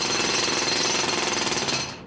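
Jackhammer on a construction site breaking up ground, hammering loud and close in one unbroken rapid rattle that stops abruptly near the end, with no voices.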